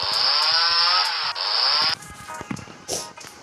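A loud chainsaw buzzes hard for about two seconds, its pitch sagging as it bites, then cuts off into scattered knocks and clatter.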